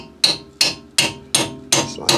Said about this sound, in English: We can drive these big ass nails down in.